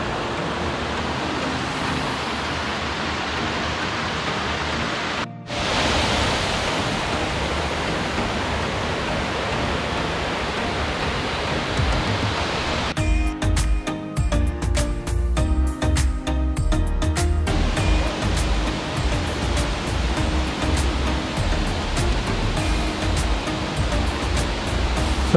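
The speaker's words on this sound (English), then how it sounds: "So this is definitely the biggest waterfall we've been to." A large three-tier waterfall in Langkawi, over 200 meters tall, roars as a steady broadband rush of falling water, loud and continuous, with a brief dropout and a rougher, more textured stretch partway through.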